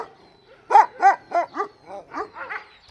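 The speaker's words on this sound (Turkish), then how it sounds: "Burada 180 tane köpekle birlikte yaşıyorum." Dogs barking at a shelter housing 180 dogs, a run of about eight close, loud barks in an uneven rhythm, with other dogs faintly audible in the background.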